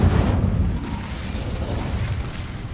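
Incendio fire spell cast in Hogwarts Legacy: a loud, close burst of roaring flame at the onset that fades into a sustained low rumble, with no talking.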